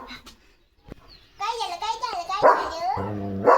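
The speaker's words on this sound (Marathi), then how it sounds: "भुंकतोय ते." A German Shepherd dog barks a few times close by, the bark sounding in short loud bursts toward the end, while people talk around it.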